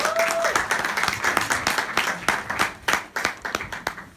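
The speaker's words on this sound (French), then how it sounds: "Une main d'applaudissement pour vous, ça me ferait plaisir aussi." A French-speaking audience at a talk bursts into sustained applause, dense clapping with sharper individual claps standing out toward the end, under a brief tone near the start.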